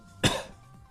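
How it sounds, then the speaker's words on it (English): A single sharp cough, close and loud, with quiet room tone before and after. "I'm gonna cough."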